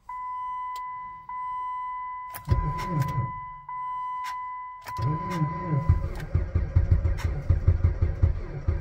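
A Jeep Patriot engine cranks in extreme -40 cold, two strained bursts of starter turning followed by a sputtering, uneven attempt to catch, with a steady electronic beep chiming in the background.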